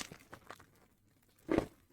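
A plastic bag crinkles in short scattered rustles while an Asus ROG Falchion mechanical gaming keyboard is unpacked, ending in one louder crisp crumple, fairly quiet with no talk.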